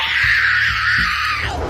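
A woman screams in a heated street confrontation, a loud, sustained, high shriek lasting nearly two seconds with only slight wavering, and a lower voice faintly underneath.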